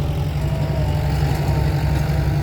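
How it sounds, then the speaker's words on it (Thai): A tractor engine runs steadily on a muddy track after overnight rain, a continuous loud low rumble with a strong idling drone and no break throughout. "รถไถก็ทำทางไป"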